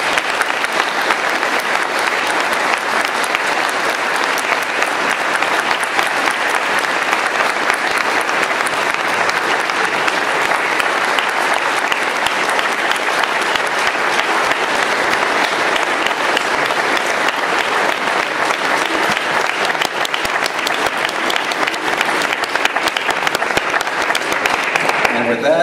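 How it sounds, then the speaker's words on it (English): A lecture audience gives a sustained, steady round of applause, dense and loud, with no break for the full length. "Let's give them a round of applause."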